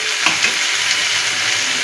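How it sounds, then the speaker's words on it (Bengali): Vegetables and green peas for gola ruti fry in a pan, giving a loud, continuous close-up sizzle with faint stirring ticks and no voices. "তার জন্য আমি এটাকে একটু ভালো করে ভেজে নিচ্ছি।"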